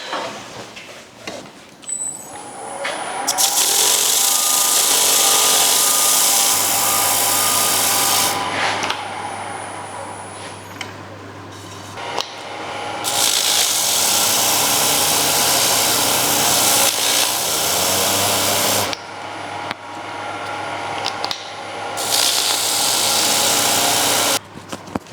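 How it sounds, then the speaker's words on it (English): A turned wooden platter being sanded to 320 grit on a spinning lathe: long rasping passes of sandpaper against the wood come in several loud stretches over a steady motor hum, with quieter pauses between them. "we want to sand this to about 320 grit"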